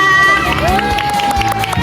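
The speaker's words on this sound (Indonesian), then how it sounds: "Tepuk tangan buat Citra" Children in a lively crowd at a dengue awareness event cheer and clap for a girl named Citra, loud excited shouting and clapping with a voice calling over it.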